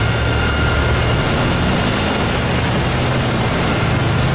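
Warbird aircraft taking off in the DCS World flight game: a steady, loud, dense engine roar that fills the whole stretch without letup, with no talk over it.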